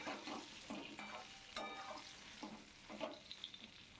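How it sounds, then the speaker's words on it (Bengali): Halved pointed gourd (potol) sizzles faintly in hot oil, broken by soft, irregular stirring scrapes and light clatter in the pan. "এখন অর্ধেক পটল ভেজে নেব"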